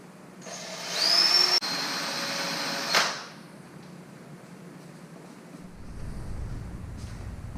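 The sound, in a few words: power drill drilling a hole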